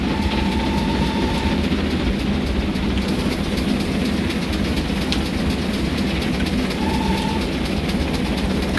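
A GWR Grange class steam locomotive, number 6023, runs on rails in Train Simulator 2018, a steady loud rumble of wheels and motion with faint whistle-like tones near the start and again later, no talking.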